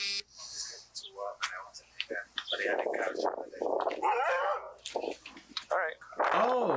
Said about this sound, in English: Oh, that was a dog.